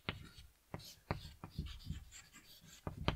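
Chalk or marker strokes on a classroom board, a series of short sharp scratchy taps and strokes close by, with a teacher's speech partly overlapping.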